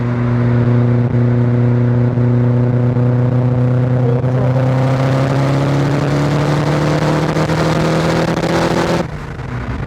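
A turbocharged Mazda MX-5 pulls hard in fifth gear, holding 18 psi of boost. The engine note rises steadily and loudly for about nine seconds from inside the car, then cuts off abruptly as the driver lifts.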